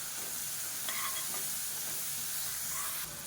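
Ginger garlic paste frying and being stirred in hot oil, a steady close sizzle with a few scraping strokes of the spoon, no voices.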